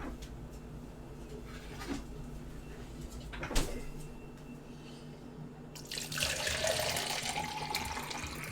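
Tap water rushes into a glass to refill a drink, a steady hiss starting after a few quiet seconds of low background noise and faint clunks.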